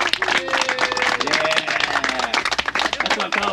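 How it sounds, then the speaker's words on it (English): A group of people gathered for gold prospecting applauds, brisk uneven clapping mixed with cheering voices over a few seconds. "Give yourself a round of applause because you did something nobody or most people never do in their lives."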